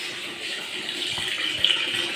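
A steady stream of water pours into a swimming pool, giving an even, close rushing hiss that holds for the whole stretch with a few faint knocks beneath it.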